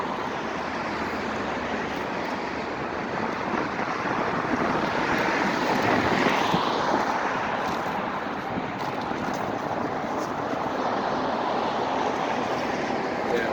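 Steady gusty wind blowing outdoors, roaring broadly into the microphone for the whole stretch, with a rising swell near the middle; paper rustling is not distinct beneath the wind noise.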